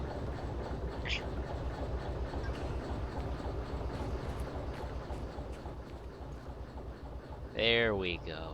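Train rumble from a train video game, with a continuous low rolling drone of railcars as a shunter locomotive pushes a train, plus a brief tonal squeal near the end.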